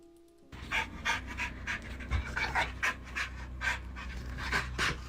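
A dog panting rapidly and steadily at close range, rhythmic quick breaths continuing throughout without a break, indoors during a live stream; no talking.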